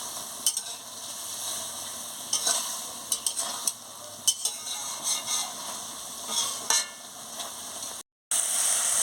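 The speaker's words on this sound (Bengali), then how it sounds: "আমি এটাকে কষিয়ে নিচ্ছি আলু আর এই ঝিঙেগুলোকে ভালো করে কষিয়ে নিচ্ছি" Potatoes and ridge gourd stir-fried in a pan make a soft, steady sizzle broken by scattered clinks and scrapes of a spatula, fairly quiet and without talk.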